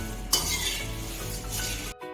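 Something is dry-roasted without oil in a pan over slow to medium gas for a snack, giving a brief hissing, rustling stir with a scrape near the start, which cuts off abruptly near the end, and no one speaks.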